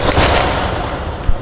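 A Diwali sky shot firework cracker launches upward in a steady hissing, crackling rush that stays loud across the whole moment, with a sharper pop near the end.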